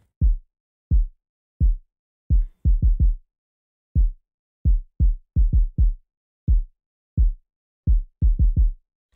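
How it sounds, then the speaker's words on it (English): A programmed kick drum in a hip-hop beat plays alone as deep, punchy thumps in a syncopated pattern, some single and some in quick pairs and triplets, clean and close with silence between hits. "I also made this kick right here."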